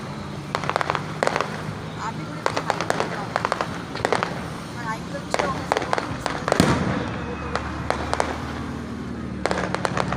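An anar fountain firework is set off during New Year celebrations in Nazimabad, giving sharp crackles and pops from nearby fireworks along with a hissing burst, while people talk throughout.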